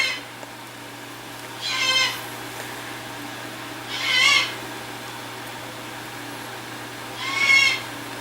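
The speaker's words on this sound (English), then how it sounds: "And I apologize for the screaming bird." A pet bird screeches in three separate loud calls spaced a couple of seconds apart, heard indoors over a faint steady electrical hum, with no talking.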